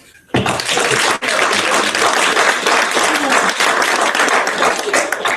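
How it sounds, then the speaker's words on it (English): Loud, sustained applause from an audience at an Imperial Beach city council meeting, starting abruptly after a brief quiet moment and continuing as a dense, steady wash of clapping to the end. "first of all, a round of applause."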